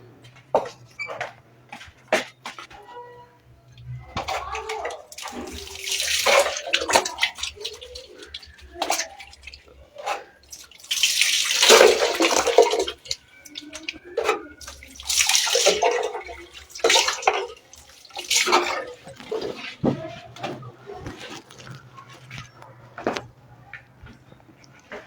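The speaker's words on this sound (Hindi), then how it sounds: "मैं पानी से इसको धोता हूँ इधर ही पास।" Tap water runs while hands are washed, coming as close, uneven bursts of splashing and trickling separated by quiet gaps.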